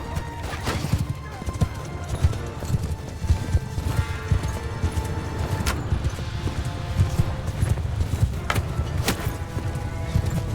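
Many horses' hooves pound in a dense, rapid clatter during a cavalry charge in the video game Mount and Blade II: Bannerlord, with occasional whinnies and a battle din, loud and continuous throughout.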